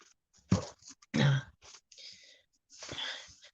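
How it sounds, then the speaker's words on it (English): A few short, harsh coughs, with pauses between them and breathy throat noises. "I have been coughing all friggin' night."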